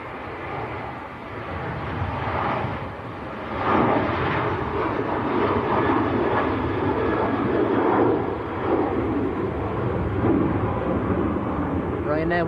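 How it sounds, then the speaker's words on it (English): Ryanair airliner bound for Cork at Manchester Airport, a moderate jet engine rumble and roar that swells after a few seconds and holds steady, heard at a distance under a voice talking. "This is the Ryanair to Cork."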